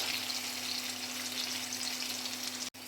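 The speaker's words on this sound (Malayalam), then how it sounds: "ഇതാ ഇഞ്ചിയും പച്ചമുളകും അത്യാവശ്യം നല്ലോണം മൂത്ത് വരുന്നുണ്ട്" Ginger and green chillies fry in oil for a Kochi-style fish curry, giving a soft, even sizzle at close range with a low steady hum beneath and one brief click near the end, no voices.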